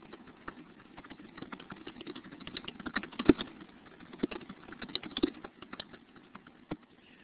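Rapid clicking of keys on a computer keyboard in a classroom, an irregular run of light taps throughout at moderate volume, with no voices.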